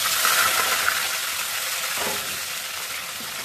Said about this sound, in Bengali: ফোড়নে দিয়ে দিব আদা